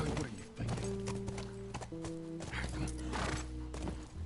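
Horse ridden in The Last of Us Remastered, with steady clip-clop hoofbeats, a whinny and game music layered throughout, close and fairly loud.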